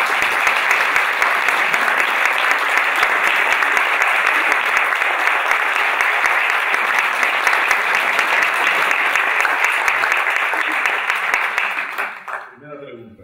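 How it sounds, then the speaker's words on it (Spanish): A lecture audience gives a warm, sustained round of applause to welcome a conference speaker, dense and steady for about twelve seconds before fading out at the end. "recibamos con un cálido aplauso a don José Antonio"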